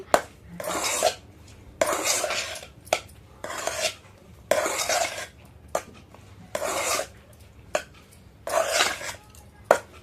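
Hot rice is mixed with pickle in a bowl, giving repeated rhythmic scraping and clinking of a spoon against the dish, about a dozen strokes in steady succession, close and clear with no talk.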